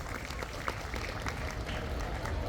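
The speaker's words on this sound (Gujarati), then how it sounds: "આપણે સૌ તાળીઓના ગડગડાટથી તેઓને વધાવીશું." Faint, steady applause from a crowd at an outdoor political gathering in Virochannagar, heard from a distance as a dense wash of claps over a rumbling low background and some talk.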